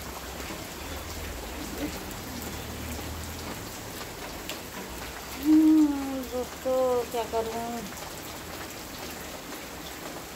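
Steady heavy rain hisses throughout, with a voice briefly speaking over it partway through.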